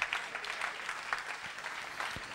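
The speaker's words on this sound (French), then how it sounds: "Applaudissez le Seigneur Jésus." Church congregation clapping during a French-language sermon, a moderately faint, steady patter of many hands with a few sharper claps.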